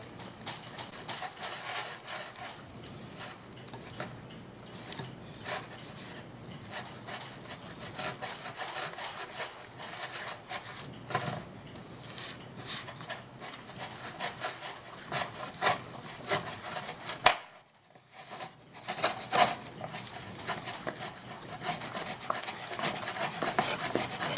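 Bread dough being mixed with flour in a bowl, a steady close scraping and rubbing that continues throughout, briefly dropping out near the end before resuming.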